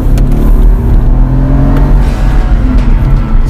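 A 2012 Mercedes E550 with a tuning module accelerates hard, its engine giving a loud, steady, close drone with low rumble and rising tonal whine throughout.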